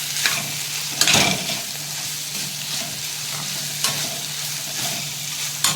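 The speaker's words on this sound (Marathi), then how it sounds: "आता आपण ह्याच्यात उकडलेले हे केळफूल टाकूया, मस्त असं परतून घेऊया।" Boiled banana flower is stir-fried in masala, a continuous close sizzle punctuated by several loud spoon scrapes and knocks against the pan.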